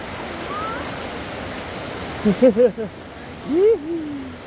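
River water rushes steadily during a crossing on a trek to Ditumabo (Mother) Falls in Baler, Aurora, a constant close wash of flow with a few brief voices rising over it.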